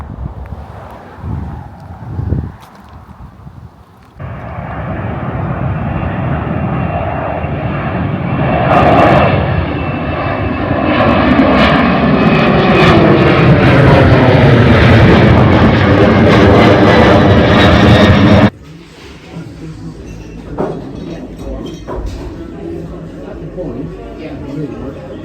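A large military propeller aircraft lands low and loud overhead in line with the runway at RAF Mildenhall, its engine drone swelling and shifting pitch, then cutting off abruptly into quieter wind noise.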